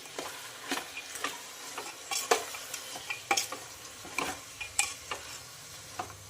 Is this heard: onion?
yes